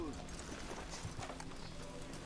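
Horse hooves clip-clop briefly in Red Dead Redemption 2, a soft, quiet rhythmic patter with someone talking over it.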